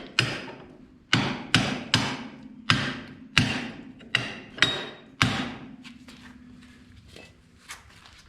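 Hammer tapping bolts on a 1970 Minneapolis Moline U302 propane tractor, eight sharp metallic knocks in an uneven rhythm, close and loud, then fainter clicks over a low idle hum.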